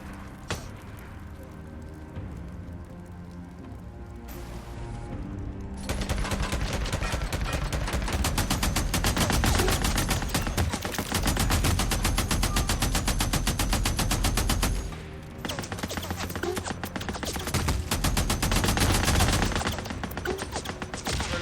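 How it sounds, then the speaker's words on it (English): Rapid automatic gunfire from the open-world zombie survival video game Days Gone rattles in dense, sustained bursts with brief lulls, loud and close, with a voice talking over the shooting. "I need you to stop shooting me for like 2 seconds"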